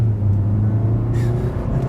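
A 2020 Hyundai Sonata accelerating hard at full throttle, heard from inside the cabin as a steady, loud low engine drone with a rising tone, continuous throughout with no talk.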